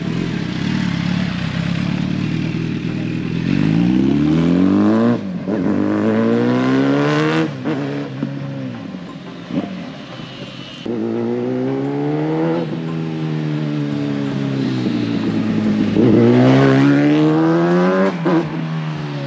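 A Kawasaki ZX-10R sport motorcycle being ridden, its engine loud and close, revving hard and climbing through the gears in repeated rising sweeps, easing off between pulls with wind and road noise underneath.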